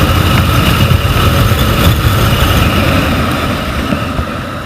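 A motorcycle engine runs loud and close, with a rough, pulsing low rumble and buffeting noise as from a helmet mount, fading slightly toward the end.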